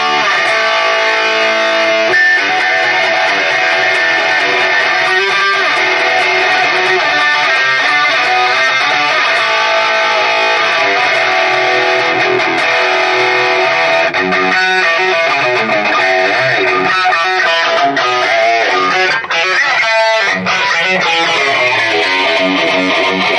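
A distorted electric guitar, a Love Blue model used as the player's main instrument since around 2012, plays continuously and loudly with sustained chords and notes and no voices.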